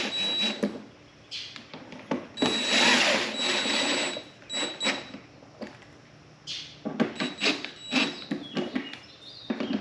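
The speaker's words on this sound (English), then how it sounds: "I'm going to run these in with my impact" An impact driver runs screws into the windscreen of a Kawasaki Voyager VN1700 motorcycle. It fires in several short, rattling bursts separated by brief pauses, close by and fairly loud.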